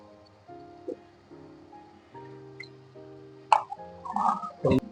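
Tomato puree added to onions frying in a pan for pav bhaji: quiet background tones, then wet plops and sharp sizzling spatters in the last second and a half, close by.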